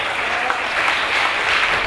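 Audience applause for a band member, a dense, loud burst of clapping that holds steady for the whole stretch with no voices over it.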